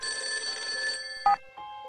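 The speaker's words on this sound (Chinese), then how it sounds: "一阵电话铃声将他吵醒" A telephone bell rings with a steady electronic trill for about a second, then a brief louder burst and a short fading tone, close and clear with no voices.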